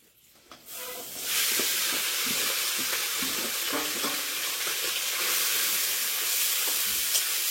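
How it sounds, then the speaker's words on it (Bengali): Fish fries in hot oil in a pan, a loud continuous sizzle with crackling spatter that starts abruptly after a quiet second and holds steady. "মাছগুলো একদিকে দিয়ে ভেজে নিচ্ছি"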